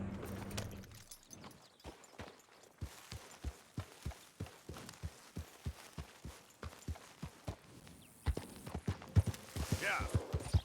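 A large horse's hooves clip-clop at a steady walking rhythm in Red Dead Redemption 2, each step distinct and close, with a burst of busier sound and faint talk toward the end.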